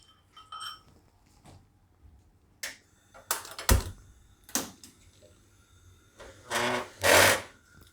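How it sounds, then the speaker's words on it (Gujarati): A home kitchen gas stove is lit for cooking: a few sharp igniter clicks spaced across the moments, then a louder rushing burst of flame near the end, with no talking. "હવે આપણે ગેસ ચાલુ કરશું"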